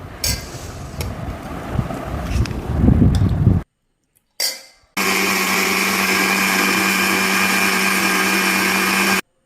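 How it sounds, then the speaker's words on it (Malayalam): Rustling and clatter, then a brief whir, followed by a loud, steady electric mixer grinder running continuously at high speed, blending tomatoes for ketchup in its jar. "ഒരു മിക്സിയുടെ ജാറിൽ അതിൻ്റെ പകുതി അടിച്ചെടുക്കണം"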